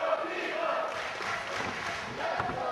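A wrestling arena crowd roars in support of D'Lo Brown at an Iron City Hardcore show, a steady wash of cheering and shouting from many voices, with a few thuds breaking through the din.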